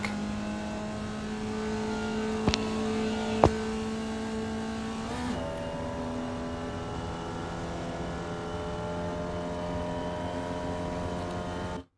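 The Formula Vee race car engine at Oulton Park in iRacing holds a steady, buzzing drone at full throttle, with a couple of sharp clicks and a brief pitch shift partway through, ending abruptly with no voices.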